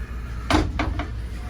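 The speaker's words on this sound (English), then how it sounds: "Open the doors." Closet doors in a 2022 DRV Fullhouse LX455 fifth-wheel RV bedroom are opened, giving three quick sliding thumps and clacks close by within about half a second.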